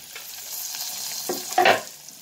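Meat frying in a pan with calabresa sausage being added, for farofa: a steady close sizzle with stirring scrapes, swelling to a louder burst of crackling near the end.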